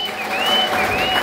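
Church congregation clapping together, a steady dense patter of many hands throughout with no talk over it.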